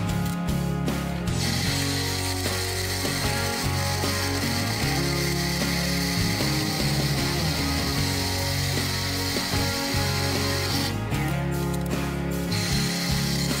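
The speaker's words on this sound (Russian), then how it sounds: "далее берем 32 уголок и отрезаем два кусочка по 50" Two 50 mm pieces are cut from 32 mm steel angle with a continuous, loud, harsh grinding roar that runs the whole time, dipping briefly near the start and end as the cuts finish, with no talking.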